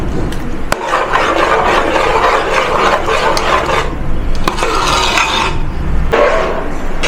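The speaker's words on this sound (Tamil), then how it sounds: "இது நல்லா இந்த முருங்கைக்காய் வந்து இந்த பச்சை வாசனை போகிற வரைக்கும் நம்ம நல்லா வதக்கிக்கலாம்." Moringa drumsticks are sautéed and stirred in a pan, making continuous close, gritty scraping and rubbing strokes with brief breaks between passes.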